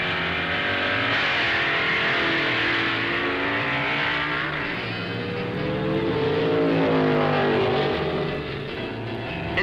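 Vintage 1960s drag race cars, a Plymouth Hemi Barracuda against a Ford Mustang, roar continuously at full throttle, a loud dense engine howl with shifting pitch that swells slightly as they pass.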